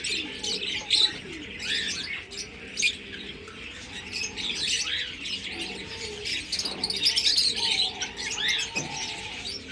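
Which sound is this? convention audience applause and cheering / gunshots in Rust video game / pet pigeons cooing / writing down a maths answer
pet pigeons cooing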